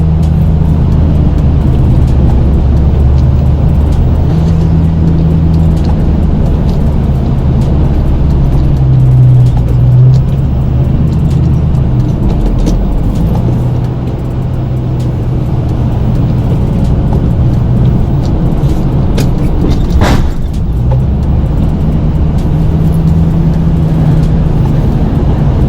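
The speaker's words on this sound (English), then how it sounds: "You can feel when you've got a load of snow. I mean, you can hear it in the truck." A pickup truck plowing snow in a March storm gives a loud, constant engine drone with deep low rumble throughout, steady with a slight dip midway as the plow pushes a load.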